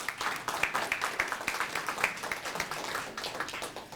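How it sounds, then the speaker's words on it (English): An audience at a public service award event gives a round of applause, with many hands clapping in a dense, moderately loud, uneven patter that holds steady throughout. "give them a round of applause as well"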